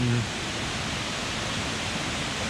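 Steady, full rushing water from Kroeng Krawia waterfall in western Thailand, close and continuous, after a brief low tone at the start.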